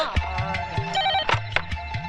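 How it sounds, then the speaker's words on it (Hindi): A telephone rings as an outgoing call is placed, a loud, close melodic ringtone repeating its bright tonal pattern over about two seconds with nothing else heard. "मैं जरा एक फोन कर लेता हूँ मेरी बहन के साथ।"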